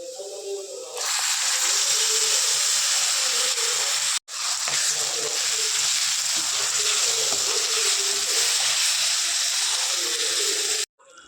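Tomato paste tipped into a hot pan for egg curry sizzles loudly and steadily, a bright hiss filling the scene for about ten seconds with a brief break partway through.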